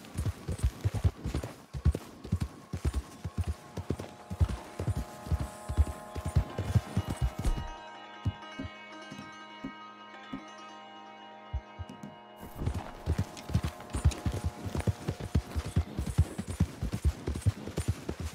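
A horse in Red Dead Redemption 2 gallops in steady, rapid hoofbeats, the rhythm pausing and slowing to sparse steps midway before the full gallop resumes to the end.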